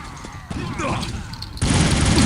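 Gatling gun fire in Quake 3 arena play sounds as a dense, loud burst of rapid shots that thickens into a sustained roaring barrage near the end, with a voice talking underneath.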